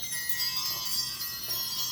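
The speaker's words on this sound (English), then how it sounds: "let's just ring in the bells" Small bells ringing in a steady shimmering tinkle for two seconds, soft and sustained, with no voices.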